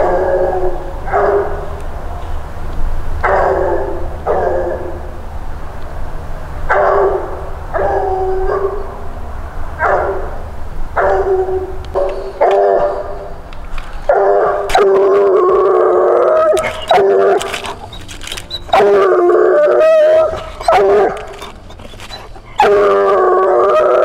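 Hunting dogs from world champion bloodlines bay and howl at an animal they have treed: long, loud, drawn-out howls that repeat in a steady rhythm, then rise into overlapping, excited baying close by.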